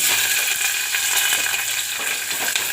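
Onions and green chillies frying in a hot pan, a continuous bright crackling sizzle with a steady hiss and faint spatter, close and loud with no talking.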